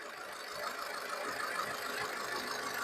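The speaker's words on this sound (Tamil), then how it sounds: "கோடா ராபிட்டோட இன்ஜின் நாய்ஸ் பாருங்க" A Skoda Rapid diesel car engine idles with a steady, even rumble and a faint rattling clatter. The sound is constant and fairly close, with no voices.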